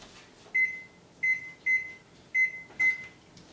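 Kitchen oven being set to preheat to 425, giving five short clear electronic beeps in an irregular sequence of button presses, close and moderately quiet over faint background hum.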